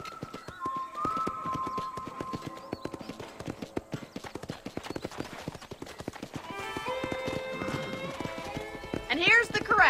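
Horses at a ranch corral in the game Red Dead Redemption clip-clop steadily, with a whinny early on and louder neighing toward the end, while a person talks over them.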